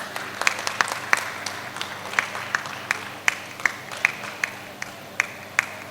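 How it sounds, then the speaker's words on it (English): Sparse applause from a small audience greeting a guest at a university innovation event, with individual sharp claps spaced irregularly across several seconds over a faint room hum. "Please greet Sir with a big round of applause."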